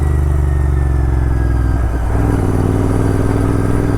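A Royal Enfield GT 650 and a KTM Duke 390 in a street race, their engines droning loud and close with steady, throbbing low rumble and a brief shift in tone midway.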